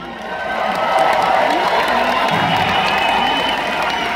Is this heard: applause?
yes